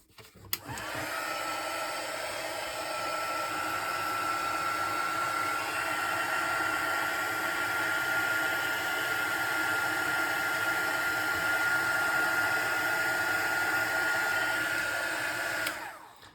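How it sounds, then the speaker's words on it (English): A heat gun runs continuously for about fifteen seconds during gold leaf heat embossing on a sun print card. It gives a steady, loud blowing roar that starts and stops abruptly, with no talking. "So I've got my heat gun here."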